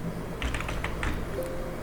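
A quick run of computer keyboard keystrokes as an ansible-playbook command is typed, close and fairly clear over low room noise, tapering off into silence.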